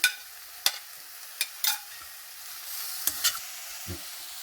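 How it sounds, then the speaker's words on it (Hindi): Carrot and capsicum are sautéed in a pan for a rusk pizza topping, with a quiet sizzle punctuated by sharp spatula clacks and scrapes at irregular intervals, and no talk. "अब हम इसमें कैरेट डालेंगे और साथ ही ये कैप्सिकम है वो डाल देंगे। इसको भी 2 मिनट सौते करेंगे।"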